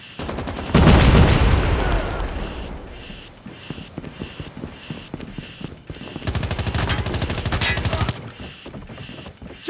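In the mobile shooter Call of Duty Mobile, a loud grenade blast booms up close, followed by sustained bursts of rapid automatic gunfire, with faint game voice callouts mixed in.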